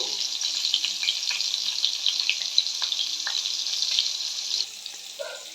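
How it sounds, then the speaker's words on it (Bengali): Pointed gourd pieces fry in hot mustard oil, giving a continuous bright crackling sizzle up close, with small pops and a slight drop in intensity near the end. "তেলটা গরম হয়ে গিয়েছে, পটলগুলোকে আগে ভেজে নিচ্ছি।"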